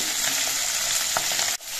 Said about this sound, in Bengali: উল্টে পাল্টে নিয়ে মাছগুলো 2-3 দিয়ে ভালো করে ভেজে নিয়েছি।